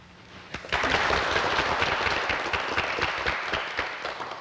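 A studio audience at a Korean television talk show breaks into sustained applause that starts abruptly and holds steady, with dense clapping throughout.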